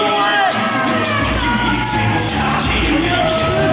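A wrestling crowd at the Mineola Rec Center reacts at a match, with a loud steady roar of shouting and cheering that lasts throughout.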